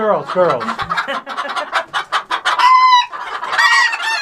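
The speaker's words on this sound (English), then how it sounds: "Usually the roosters that make that noise." Chickens cluck and squawk in a busy close-up flurry, with a rooster-like call rising near the end.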